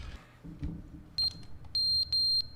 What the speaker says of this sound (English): the fire alarm ran out of batteries